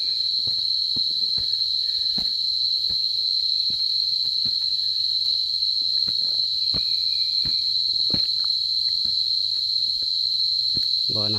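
Insects trill at night in rural countryside, a loud, continuous high-pitched cricket chirr holding steady throughout, with scattered faint ticks and patter beneath it.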